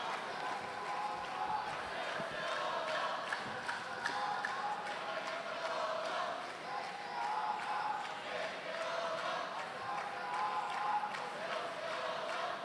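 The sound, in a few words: crowd chanting at the World Judo Championships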